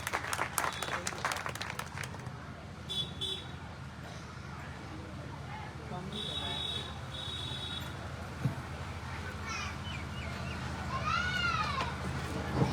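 An audience at a farmers' gathering in Netarhat, Jharkhand claps to welcome a veterinary college lecturer. The dense, steady applause runs the whole length at a moderate level, with bits of children's voices and crowd noise mixed in.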